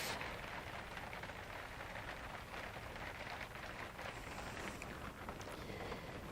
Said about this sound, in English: I can now hear the rain on the roof.